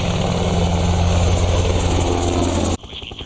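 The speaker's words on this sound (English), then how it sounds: "a test pilot on one of the most successful military helicopters ever made, the Black Hawk" A Black Hawk military helicopter flies close by, a loud steady rotor drone with a low throbbing beat that cuts off abruptly near the end.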